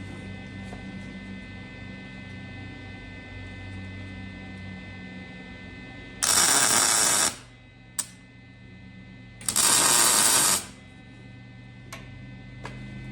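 Two short bursts of tack welding on a turbo flange, each lasting about a second, stand out loud and close over a steady electrical hum, with a couple of faint clicks between them.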